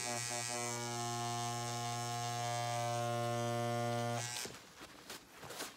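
A tattoo machine buzzes loudly and steadily for about four seconds on practice skin, then stops, leaving faint handling noise.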